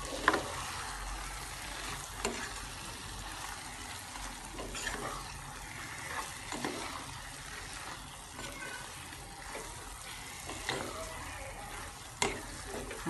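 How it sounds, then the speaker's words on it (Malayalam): Ragi semiya upma with coconut being stirred in a pan on a gas stove, a soft steady sizzle with scattered scraping spoon strokes, fairly quiet and close with no voices. "ഇനി നന്നായിട്ടൊന്ന് ഇളക്കിയെടുത്ത് ഒരു 2 മിനിറ്റ് ഒന്ന് ഗ്യാസിൽ വെച്ചാൽ മതി."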